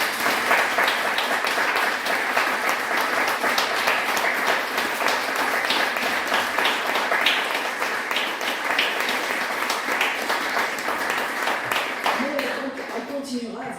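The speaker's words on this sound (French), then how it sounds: "Et vous avez raison, Madame Barado, je propose même que nous l'applaudissions" Sustained applause fills a municipal council meeting in Le Coudray-Montceaux, steady dense clapping from the assembled room that carries on for over ten seconds before tapering off near the end.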